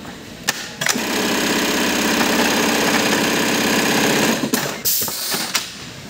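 A Brother RH-9820 buttonhole sewing machine runs at speed, a loud close rapid mechanical chatter that starts abruptly, holds steady for about four seconds, then stops with a few clicks.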